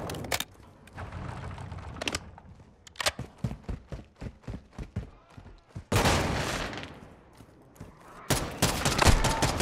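Warzone 2 gunfire crackles in close bursts and single shots, with heavier rolling blasts near the end, loud and punchy in a busy game mix.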